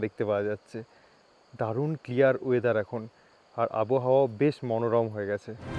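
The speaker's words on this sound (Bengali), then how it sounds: "ঝিঝি পোকার ডাক ছাড়া আর" Crickets chirp in a faint, steady high trill in a forest at night near a riverside resort in Rishikhola, Sikkim, running continuously beneath someone talking.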